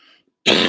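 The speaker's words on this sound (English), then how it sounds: "Pardon my cough." A single loud, close cough bursts out after a brief moment of quiet, preceded by faint indistinct sound.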